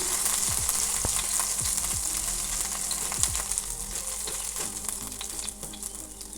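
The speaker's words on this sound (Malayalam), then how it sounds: "ഒരു ടീസ്പൂണ് ഇഞ്ചി വെളുത്തുള്ളി ചെറുതായിട്ട് കട്ട് ചെയ്തതും കൂടെ ഇട്ട് കൊടുക്കാം എന്നിട്ടത് നന്നായിട്ട് തന്നെ ഒന്ന് വഴറ്റിയെടുക്കാം" Finely chopped ginger and garlic sautéing in hot oil in a pan, with a steady close crackling sizzle and occasional stirring scrapes, and no voices.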